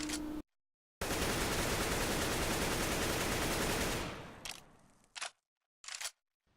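Rapid automatic rifle fire from CS:GO sprays in a dense sustained burst for about three seconds, then trails off, followed by two short separate bursts; no talking.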